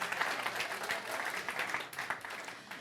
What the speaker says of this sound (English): So let's give a clap for that.